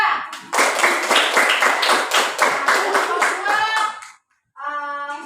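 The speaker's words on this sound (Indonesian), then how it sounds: "kita kasih aplaus untuk kelompok 2" Applause for a student group in a classroom: many hands clap together for about four seconds, a brief silence follows, and then a voice speaks.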